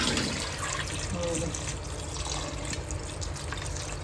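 Water is poured into a bowl of prawns in a quiet home kitchen, a continuous close splashing wash of liquid with no speech.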